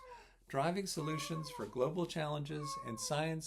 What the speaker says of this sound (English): Excuse my cat.